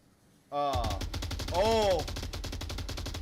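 Rapid automatic gunfire from the Onward virtual-reality shooter game rattles in a dense, loud burst that begins abruptly and continues without a break, with a tonal voice-like layer rising in the middle.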